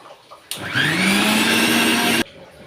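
A mixer grinder grinds coconut for a yam curry: a loud, steady motor whine starts abruptly, rises slightly in pitch as it spins up, holds for under two seconds, then cuts off sharply.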